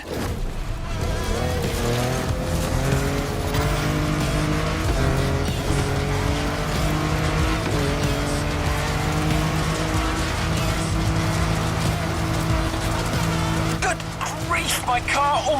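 Race car in The Crew Motorfest video game driven at full speed, a loud continuous engine whine climbing through gears with tire squeal and skidding toward the end.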